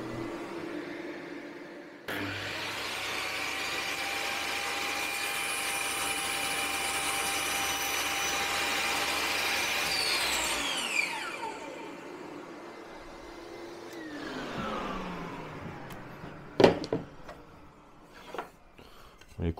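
A VEVOR 1800W table saw with a 40-tooth blade rips through a cut while a shop vacuum roars alongside, a loud sustained whine that starts abruptly, holds steady, then spins down, followed by scattered clunks.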